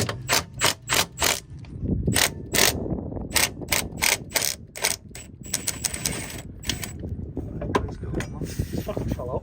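A ratchet clicks in quick bursts while undoing the two 13 mm clutch slave cylinder bolts on a 2004 BMW 320d E46 with the M47 diesel engine. The clicking is close and sharp, with some clanking of the tool in between.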